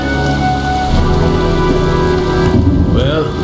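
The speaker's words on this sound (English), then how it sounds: "Well, looks like a storm's coming." Steady rain and a thunderstorm from the video game Heavy Rain: a dense, continuous wash of rainfall over a low rumble, with sustained tonal background sound throughout and no talking.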